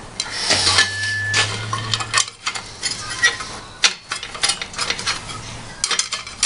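Metal bolts and a guard for a 2x72-inch belt grinder handled on a workbench, with close clinking, rattling and tapping in irregular bursts and no talking.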